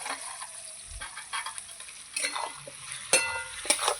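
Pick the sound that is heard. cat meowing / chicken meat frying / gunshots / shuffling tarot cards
chicken meat frying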